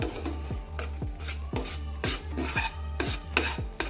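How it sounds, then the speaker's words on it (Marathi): A spatula scrapes and stirs onion and tomato frying in oil in a pan, with steady rhythmic strokes roughly every half second, close and moderately loud, and only a faint sizzle underneath. "पण आधी पण तेलामध्ये कांदा टोमॅटो चांगला फ्राय करून घेतलेला आहे"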